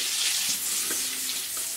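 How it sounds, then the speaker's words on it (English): Steady, close hiss and crackle of chicken balls frying in a hot pan, continuous with faint pops, no talking. "It's the sound of chicken balls cooking."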